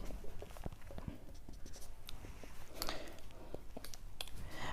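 Chalk scratching and tapping across a board during a Hindi-language metallurgy lecture, a steady run of faint, close strokes and clicks with no voice over them.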